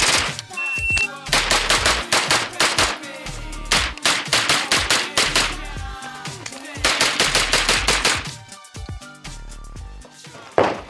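Rapid bursts of loud, close gunfire testing Supervel 100 grain ammunition at an outdoor range, shots coming in quick strings with short pauses between them and no talk.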